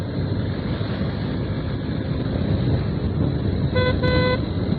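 Two short horn honks from a motorbike ring out near the end over steady engine rumble and wind noise.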